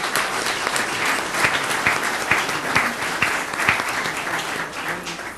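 An audience at a legislature session bursts into loud, sustained applause, with many overlapping claps and a few sharper individual smacks standing out over more than five seconds.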